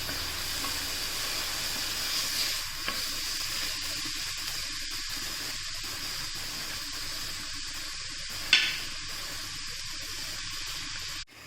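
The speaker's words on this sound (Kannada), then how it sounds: "ಸ್ವಲ್ಪ ಕಲರ್ ಚೇಂಜ್ ಆದ ತಕ್ಷಣ ಟೊಮೆಟೊ ಹಾಕ್ತಾ ಇದ್ದೇನೆ." Chopped tomato for Mumbai street-style pav bhaji sizzling steadily in a hot pan, a continuous close hiss and crackle with a brief louder spatter near the end and no talking.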